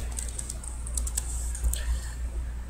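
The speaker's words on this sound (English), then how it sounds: "you're going to open up a new browser window, and you're going to type in" Keys tapped on a computer keyboard in short irregular bursts, fairly soft and close, over a steady low background hum.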